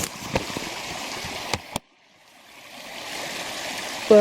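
A small river flows with a steady, soft rushing wash. It is broken by a few sharp handling knocks, drops almost to silence for a moment, then swells back into a continuous outdoor water sound.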